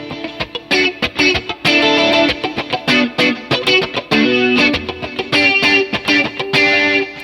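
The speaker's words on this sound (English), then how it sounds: "the reason why I'm using this telly is because it gives me more of a funkier kind of sound in the middle position" Funky electric guitar from a Telecaster on its middle pickup, run through effects, playing choppy, rhythmic muted strums and short chords, loud and close with no talking.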